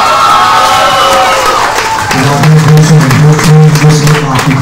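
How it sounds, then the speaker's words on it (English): Audience at a birthday celebration breaks into applause and cheering, a loud, dense roar of clapping and shouting voices that swells after a moment while a voice carries on over the crowd. "I think you should give yourselves a round of applause"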